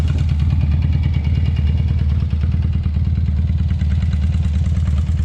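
An old BMW R50/5 Airhead motorcycle engine idles steadily close by, a loud, low, lumpy rumble with a rapid regular mechanical clatter.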